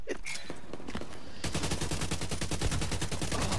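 Turret gun in The Division 2 firing a sustained rapid automatic burst, loud and close, the stream of shots starting partway in after a quieter stretch of game ambience and continuing steadily to the end.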